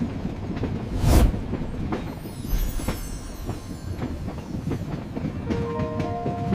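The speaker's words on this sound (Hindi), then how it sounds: "ट्रेन के सीक्रेट यार्ड में दाखला।" Train rolling into a terminal yard, a steady rumbling wheel roar with clacking over rail joints and a brief squeal, continuous and fairly loud without talk.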